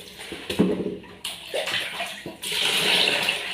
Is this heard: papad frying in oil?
no